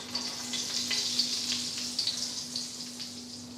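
Butter melting into two tablespoons of hot oil in a wok for chicken pot rice: a soft, even sizzle with faint crackles and pops, steady and close, with a low constant hum beneath, no talk.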